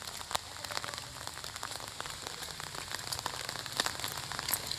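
Steady rain pattering on surfaces in a garden in Chhatna, dense and even, with occasional sharper drips standing out; no voices.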